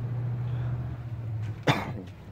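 A single sharp cough cuts through a quiet workshop background with a low steady hum, brief and close to the microphone.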